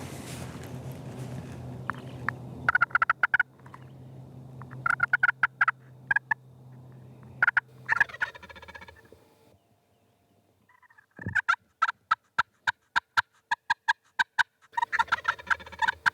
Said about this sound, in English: heard a distant gobble